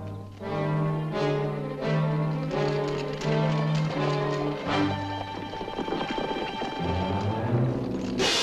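Horse hooves clip-clop in a quick, steady rhythm beneath a loud orchestral score, the hoofbeats partly masked by the music.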